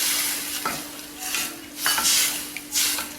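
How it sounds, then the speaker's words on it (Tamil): A pot of water heats on the stove for rice flour kozhukattai, a steady hissing simmer with a low hum and a few soft scraping stirs or pan knocks, close by and without talk. "நல்லா கொதிக்கட்டும்"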